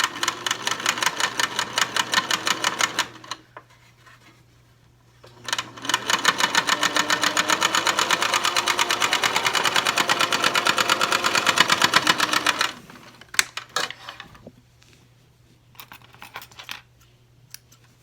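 A sewing machine zigzag-stitches a rubber band onto a pleated fabric face mask, a fast, even mechanical rattle in two long runs of several seconds each, with short bursts and pauses between, close and loud.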